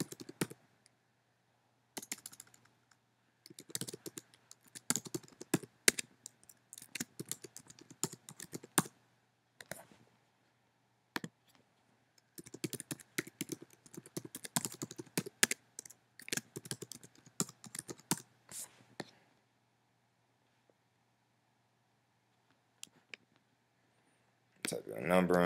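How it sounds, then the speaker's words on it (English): Bursts of key clicks from typing an email on a computer keyboard, close and fairly quiet, in irregular runs separated by pauses, with a soft steady hum underneath. "Go and type your email in."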